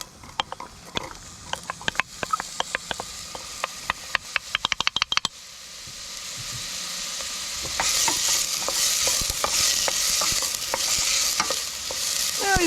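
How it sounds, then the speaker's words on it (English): Onion cooks in oil in a pot at a camp kitchen. Sharp, rapid utensil clicks and scrapes come first, then a steady, close sizzle of frying builds up and continues, with occasional stirring knocks. "Now he's going to slowly cook the onion, get them nice and soft"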